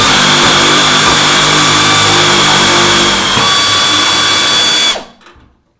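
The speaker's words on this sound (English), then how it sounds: "Then I'm going to stick my air ratchet on there." Air ratchet spinning a nut down on a 1974 AMC Javelin, a loud continuous pneumatic whir with a steady high whine that runs for about five seconds, then cuts off abruptly into near silence.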